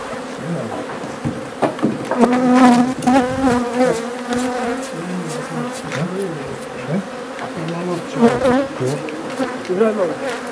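Honey bees buzz around a hive at an organic honey farm in Bingöl, a close, dense drone with shifting wingbeat pitches and swells as individual bees pass near.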